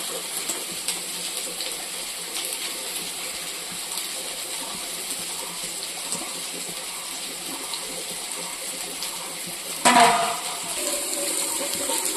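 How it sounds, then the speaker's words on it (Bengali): Bata fish go into a bubbling curry of drumsticks and potatoes, with a steady wash of boiling noise throughout and one brief splash near the end. "ঝোল ফুটে গেছে এই যে এখন বাটা মাছগুলো এক এক করে দিয়ে দেওয়া হচ্ছে"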